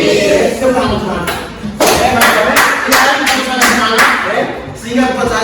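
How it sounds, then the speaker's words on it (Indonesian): An audience claps hands at an indoor gathering, with a series of sharp, separate bursts of applause close by mixed with ongoing speech. "Tepuk tangan."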